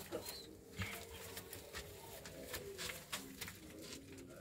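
Pigeons coo softly and repeatedly at close range, with low throaty calls over faint rustling and light patter from the birds.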